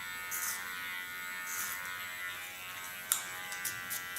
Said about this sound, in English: This is my first line, so I now clean this line with a small clipper.